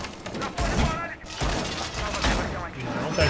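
Gunfire in the Rainbow Six Siege video game crackles in rapid, dense bursts with heavy thumps, while players talk over the shots.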